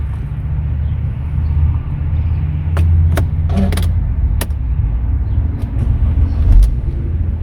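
A Mercedes C300 4Matic W204 engine runs after an oil change, making a steady, loud, close low rumble with a few brief mechanical clicks on top.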